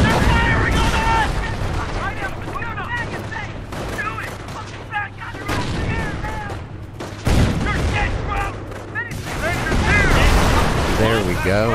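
Gunfire from the Company of Heroes video game sweeps over a squad in rattling bursts and crackling volleys mixed with booms, while voices shout over the battle.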